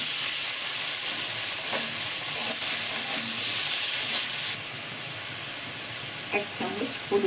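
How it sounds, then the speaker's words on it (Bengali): Half a large capsicum and two tomatoes fry in a pan with white cumin and turmeric, giving a loud, steady hiss that drops to a quieter sizzle partway through, with a few faint utensil clicks. "একটা বড় ক্যাপসিকামের আমি হাফ নিয়েছি আর টমেটো নিয়েছি দুটো ভেজে নেবো"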